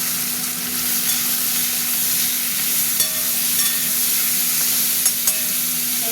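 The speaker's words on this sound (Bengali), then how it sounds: "আলুটা পেঁয়াজের সাথে ভাজবো" Potatoes and onions with tomato frying in a pan for a Bengali fish curry, giving a steady, loud, even sizzle with a constant hiss and a few small clicks and pops scattered through.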